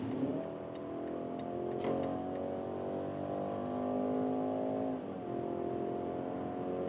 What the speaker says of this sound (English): Hey Leah, sport mode please. Thank you so much. And now like some 90 kilometers an hour to